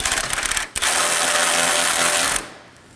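A ratchet snugging down the AC condenser's front bolts on a 2013-2019 Nissan Sentra, a rapid close clicking that runs briefly, pauses, then continues steadily before stopping.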